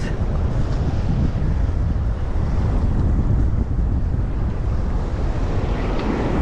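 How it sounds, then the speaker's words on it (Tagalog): Strong wind buffets the microphone while ocean waves surge and crash steadily nearby, a loud, continuous roar with no voices. "grabe lang talaga yung alon dito"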